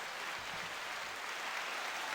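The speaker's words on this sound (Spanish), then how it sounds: "Tenemos aplausos." A soundboard button on a podcast audio recorder plays a canned applause effect, a soft, even wash of many clapping hands at low volume with no voices.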